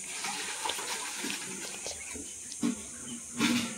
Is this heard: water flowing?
yes